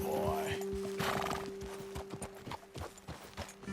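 In Red Dead Redemption 2, a horse whinnies loudly at the start, then hooves clop in a steady rhythm under a low steady hum.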